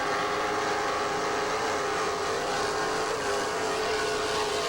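Engines of offshore racing powerboats at a 1991 race off Long Beach, California: a loud, continuous, dense roar, steady throughout with no pauses, close and unbroken.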